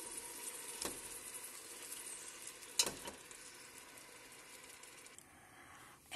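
Pieces of rabbit sizzle steadily in a pot for rabbit cacciatora, a soft continuous frying hiss with a few sharper clinks and shifts of the meat partway through. No one speaks.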